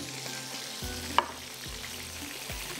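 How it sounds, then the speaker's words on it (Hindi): Kebabs frying in a pan with green chillies and curry leaves, a steady close sizzle throughout, with a few soft low thumps and one brief sharp clink partway through. "जब तक कबाब हमारे फ्राई हो रहे हैं"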